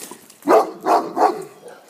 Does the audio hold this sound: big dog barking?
yes